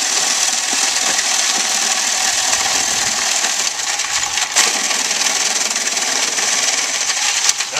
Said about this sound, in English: So it's going to grind up that ice and throw it into the cup.